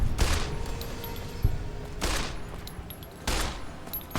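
Gunfire in Fallout New Vegas comes as three loud, close bursts of shots, each a sharp crack with a short ringing tail, spaced roughly a second or more apart against quieter game ambience.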